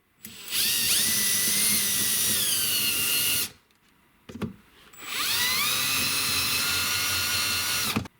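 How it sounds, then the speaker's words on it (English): A power drill spins an OrixPlus deburring tool against a small metal bolt held in a vise, a loud steady whine in two long bursts with a brief pause and a short rattle between them. "I could see the metal shavings falling off as I was spinning the drill."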